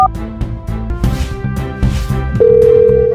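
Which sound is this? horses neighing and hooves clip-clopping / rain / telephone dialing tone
telephone dialing tone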